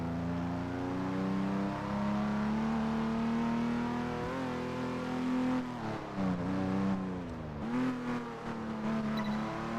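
Jaguar E-Type engine in the racing game Test Drive Unlimited 2, a steady droning hum that shifts pitch up and down as revs rise and fall, continuous throughout with no voices.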